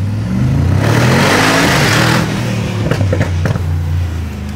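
A tuned Mercedes G63 AMG revs inside a tunnel, its loud engine swelling into a roaring surge, then dropping to a lower drone with a few sharp crackles near the end.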